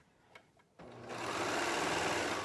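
A serger sewing an infinity scarf starts up after a few faint clicks and runs at a steady, slowish hum and rattle close by, with no talking.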